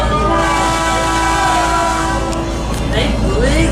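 Horn of a scenic train in the Hoosic Valley near North Adams, Massachusetts, sounding loud and sustained at a public highway crossing over steady rumbling rail noise, with faint voices in the background.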